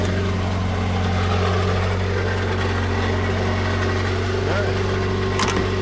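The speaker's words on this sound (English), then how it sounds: "Let it idle for a bit." A VW Scirocco autocross project car idles steadily after a hard start, its low engine hum constant and close throughout, with a brief faint higher sound near the end.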